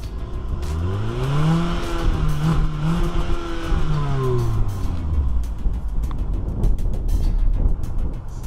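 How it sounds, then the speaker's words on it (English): A 2018 Kia Rio EX 5-door pulls away on a road test drive, its engine rising through gears in clear upward sweeps, close and steady with road and wind noise underneath. "now it's time to take it for a test drive"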